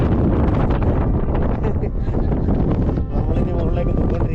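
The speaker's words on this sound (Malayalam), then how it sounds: "ഭയങ്കര കാറ്റ്." Strong wind buffets the microphone on a hilltop at Thangalppara in Vagamon, a loud continuous roaring rush with gusty swells throughout.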